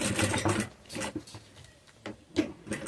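Sewing machine stitching a plastic piece onto a strap: a fairly faint, uneven mechanical rattle in short bursts, close by, with no one speaking.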